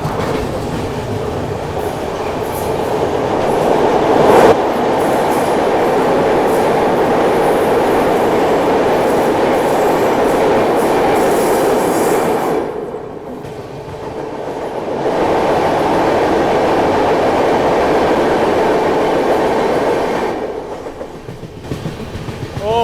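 The AP Express rumbles steadily through the triple-line Budhni ghat section, wheels clattering over rail joints, the roar dipping briefly twice as if passing through cuttings or tunnels.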